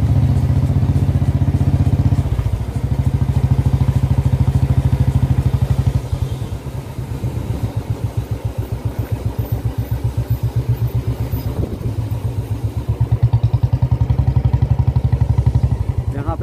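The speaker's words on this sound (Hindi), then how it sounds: "यहाँ पे करते हैं हम अपनी बाइक खड़ी" A motorcycle engine runs steadily and loudly at close range at the gate of Nalas Shiv Mandir in Rajpura, Punjab, idling with a rapid chugging pulse that dips as the bike slows and is brought to a stop, with a voice talking over it.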